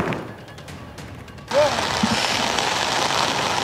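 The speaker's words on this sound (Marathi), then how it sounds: "आता मात्र जोरदार पाऊस पडत आहे मुंबईमध्ये" Heavy rain at Marine Drive in Mumbai, a dense steady roar of downpour that starts abruptly partway through and continues loud and even.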